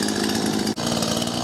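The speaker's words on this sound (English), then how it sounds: "So I'm going to crack on and start sawing." A chainsaw cuts through wood, its engine a loud, close, continuous roar that dips briefly for an instant before returning to full power.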